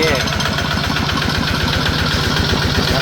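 A Kawama 155 New Plus single diesel engine running close by, loud and steady with a rapid, regular knocking thump throughout.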